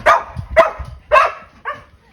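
A puppy in a village gives four sharp, close barks at roughly even intervals, the last one softer and shorter.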